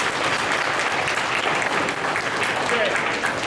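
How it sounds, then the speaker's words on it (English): A crowd claps steadily and densely for several seconds, a full, even round of applause. "So please give them a round of applause."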